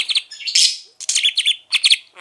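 A pet budgie chirps at close range in quick bright bursts, with short pauses between the clusters and no talk over them.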